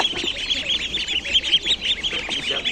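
Ducks crowded together at a poultry market, a rapid, dense run of overlapping nasal quacks and honks, close and lively with no pauses.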